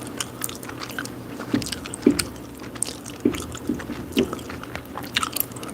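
Close-miked gum chewing during an ASMR session, with wet smacks and irregular small clicks and squishes.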